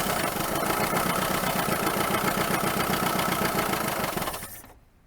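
A 1980 Dodge Colt Challenger engine running on choke with its idle circuit not working, a loud steady pulsing rumble close up that holds for about four seconds and then dies away abruptly into quiet.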